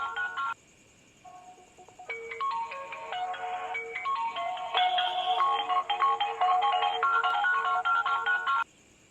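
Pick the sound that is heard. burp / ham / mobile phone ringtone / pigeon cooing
mobile phone ringtone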